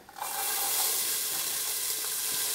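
Fennel seeds and chopped onions hit hot oil for a mutton curry, bursting into a loud, steady broadband sizzle that holds evenly without talk.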